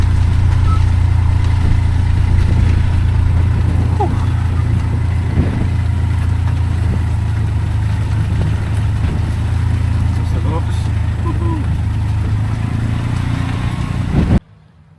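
A tuk tuk engine drives along an Irish coast road between Mizen Head and Valentia Island, a steady loud rumble with wind noise throughout, and a few faint background sounds, until it cuts off just before the end.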